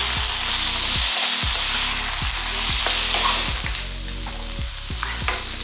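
Chicken fajita meat browns in a hot pan after the liquid is drained, with a continuous close sizzle broken by regular scraping stirs that come roughly every half second and carry no voices.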